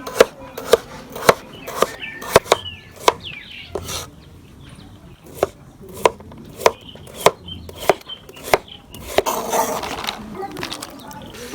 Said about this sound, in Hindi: अभी प्याज की कटाई कर लेंगे, इसकी भी चॉप कटाई करेंगे।